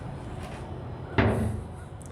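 A metal door on a 500-gallon barbecue smoker swings open with a single short clunk, close and moderately loud, over quiet room tone.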